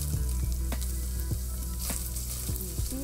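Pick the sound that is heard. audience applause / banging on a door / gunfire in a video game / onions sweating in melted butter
onions sweating in melted butter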